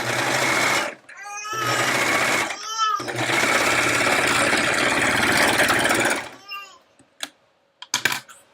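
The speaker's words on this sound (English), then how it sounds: "we are going to take these over to the sewing machine or serger and just sew the 2 side seams" A sewing machine sews side seams in several steady bursts, its motor whirring rapidly between pauses, loud and close, followed by a few clicks.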